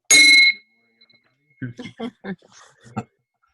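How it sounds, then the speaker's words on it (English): A bell rung once to open an online meeting gives a short, bright ding with a lingering ring, followed by a person speaking nearby. "The infamous bell here."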